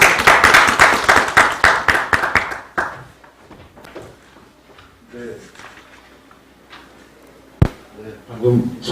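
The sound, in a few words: audience applause for a presenter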